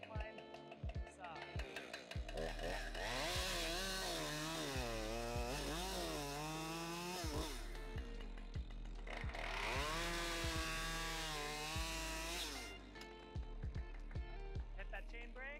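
A 550 chainsaw revs and cuts into a tree spar during SRT tree climbing, its engine note rising and falling through the cut, loud and close, with a voice talking over parts of it.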